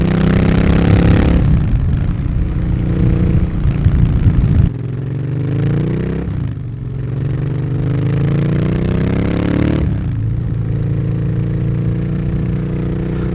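A Royal Enfield Interceptor 650 motorcycle fitted with an 865 big bore kit, ridden with a loud, close engine drone that climbs through the gears in rising sweeps, dropping briefly at each shift.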